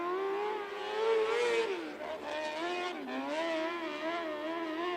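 Race car on a qualifying lap at Port City Raceway, engine note rising and falling as it works down the back straightaway, a clear whining drone heard at moderate distance with no talk over it.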